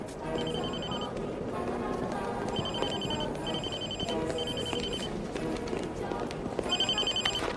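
Telephone ringing in repeated electronic bursts of trills, fairly quiet, with people talking over and between the rings throughout.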